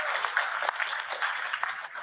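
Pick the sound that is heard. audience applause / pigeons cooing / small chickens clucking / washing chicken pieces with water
audience applause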